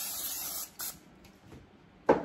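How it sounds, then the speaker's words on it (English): Short hissing bursts of oil spray misted onto raw French fries for an air fryer, three or four brief puffs close by with quiet pauses between them, the last one loudest. "I don't think I sprayed enough oil."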